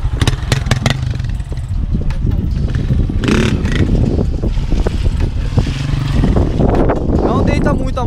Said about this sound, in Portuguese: Não deita muito a moto, João.